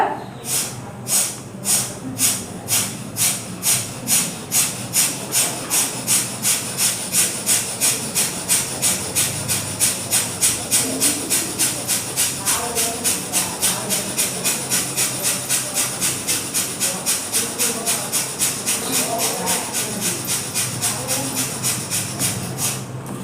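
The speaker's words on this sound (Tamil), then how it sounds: "ஃபாஸ்ட் ப்ரீத் அவுட் பண்ணுறோம் மூச்சை ஃபுல்லாக வெளியே விடுறோம்" Fast, forceful exhalations through the nose during a group breathing exercise, with the mouth kept closed. They come as a steady, rapid train of sharp breathy puffs, several per second, sustained throughout at an even, moderately loud level.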